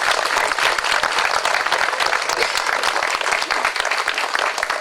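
Steady, dense applause from an indoor audience welcoming a New York State Assemblyman, clapping continuously at an even, fairly loud level throughout with no voices over it.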